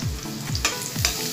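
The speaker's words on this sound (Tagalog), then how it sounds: "Luluto lang po natin kahit konti yung sibuyas at ang bawang." Onion and garlic fry in a pan for chop suey, a close, continuous sizzle with repeated scraping sweeps and clatters as the mix is stirred.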